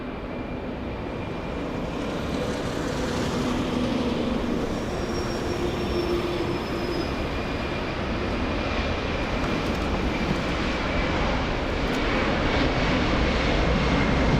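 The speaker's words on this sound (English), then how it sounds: "It might be a turn and burn for the 767. It's already clear for takeoff." Boeing 767 jet taking off at Los Angeles International Airport, a steady, broad engine roar held at one level throughout, with a faint high whine drifting across it and no talk.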